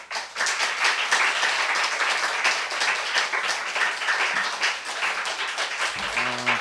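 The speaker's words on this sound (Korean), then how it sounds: "우리 이승재 목사님 나오실 때 큰 박수로 환영하겠습니다." A church congregation at an autumn revival service claps loudly and continuously to welcome the pastor, a thick, even roar of applause that fills the room before a brief voice begins at the end.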